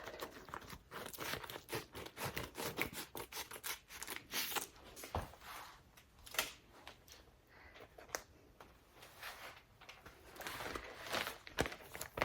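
Scissors snip repeatedly and quickly through a plastic bag or wrapping during tortilla making, a faint run of crisp close cuts and rustles with short pauses and no talking.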